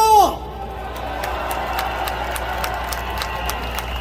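Crowd cheering and applause at a large outdoor protest rally in front of city hall, a dense sustained roar after a brief loud voice at the start, with scattered claps and shouts throughout.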